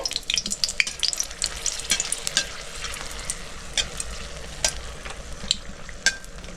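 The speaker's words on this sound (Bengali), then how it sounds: "তেল গরম হয়ে গেছে আমি শুকনো লঙ্কাটা বেঁধে নিচ্ছি" Dried red chillies frying in hot mustard oil in a pan, a fairly quiet, crackly sizzle with irregular pops and stirring clicks throughout, no voices.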